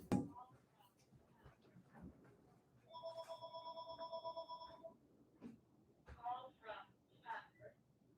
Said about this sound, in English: I think it's because they were calling the phone and it kept